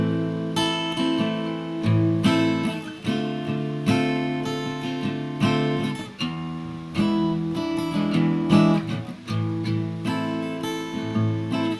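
Slow, ballad-like guitar playing with a sequence of sustained strummed chords ringing close and loud on their own, with no voices.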